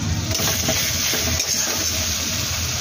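Tomato paste going into a frying pan with ginger already cooking, giving a steady close sizzle and hiss of frying throughout, with no voices.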